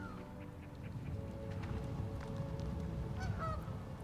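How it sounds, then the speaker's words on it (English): Geese honk repeatedly from small goose farms in the city-building game Anno 1800, a few scattered calls rising over a steady bed of ambient game noise and low rumble. "Oh, little goose farms."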